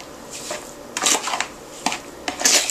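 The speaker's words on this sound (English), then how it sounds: "We're going to add one teaspoon of vanilla extract and we're going to stir it up." A spoon stirring sugar and vanilla extract into yogurt in a bowl, giving a few brief scraping clinks against the bowl in short bursts, close and fairly quiet with no talk.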